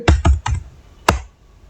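Four sharp keystrokes on a computer keyboard while entering an amount into a tax filing form: three quick taps in a row, a pause, then one final firmer press, close and clear with no talking.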